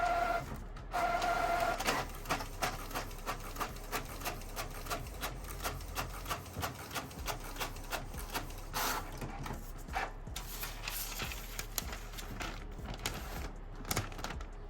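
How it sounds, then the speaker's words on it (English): A Canon Pixma GM2040 printer running a tattoo stencil print chatters in dense, rapid mechanical clicks and whirs, fairly quiet and steady throughout. "the printer is very dynamic with how it prints."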